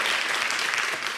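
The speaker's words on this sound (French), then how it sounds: "ça s'applaudit." A television studio audience claps in a short, loud, continuous burst of applause.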